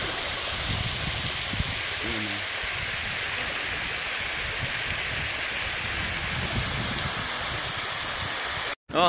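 A waterfall at a river rafting and tubing spot gives off a loud, steady rushing roar that fills the whole stretch, with a brief voice faintly audible over it.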